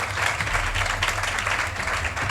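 Loud, dense clapping from a group of girls at a coaching centre, steady and continuous for a couple of seconds over a low background hum.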